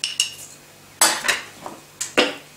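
Metal spoon clinking and scraping against a bowl as heaped oats go into a homemade bread mix, three clusters of sharp close clinks with short pauses between.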